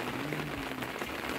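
Rain falls steadily on a village rainy day, a soft, even hiss of drops on surfaces with a faint low hum beneath, quiet and continuous.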